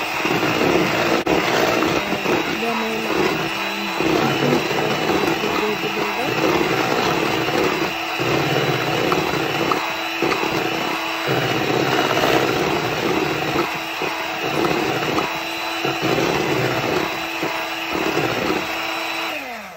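An electric hand beater whisks gluten-free pumpkin cream roll batter on low speed, a loud, steady motorized whir with a slightly fluctuating hum running continuously throughout.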